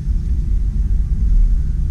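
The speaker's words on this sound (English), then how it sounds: "Got a very slight exhaust leak." A 1976 Chrysler Cordoba engine with a very slight exhaust leak idles in a steady, loud low rumble, with no talk over the continuous drone.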